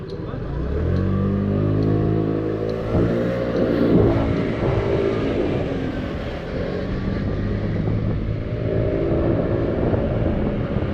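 Hot pink Honda Giorno scooter ridden at night through Tokyo, its small engine droning steadily with rising and falling revs. Wind and road rumble sit underneath. No talking.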